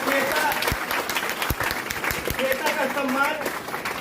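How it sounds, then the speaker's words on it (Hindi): An audience at a coaching class prize ceremony for top students claps loudly and steadily, a dense burst of applause with some voices mixed in. "श्वेता के लिए जोरदार ताली जो किया जाए"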